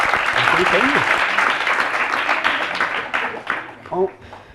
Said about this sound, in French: On peut applaudir encore une fois Ahmed Salah,